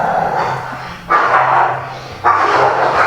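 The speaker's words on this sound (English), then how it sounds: "Just excuse the noise, the dogs are going crazy." Dogs in a home, a male and a female kept apart, barking in two loud bursts over a steady background of agitated noise, close to the listener with no talk.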